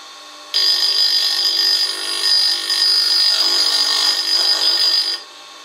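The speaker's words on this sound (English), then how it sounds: "Take a little test grind and see what it does." A bench grinder does a test grind with a workpiece held on its tool rest and guide rail system. A loud, steady high-pitched grinding whine with hiss runs for about four and a half seconds with no talk.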